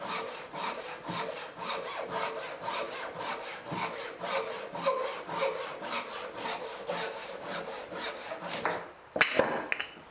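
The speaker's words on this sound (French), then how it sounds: "avec cette petite dozuki qui est faite pour couper en travers fil" A small Japanese dozuki pull saw crosscuts wood in quick, even strokes, each rasping pass close and crisp in a steady rhythm, ending with a few knocks as the cut finishes.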